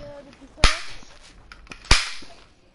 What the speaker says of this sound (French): C'est un pistolet.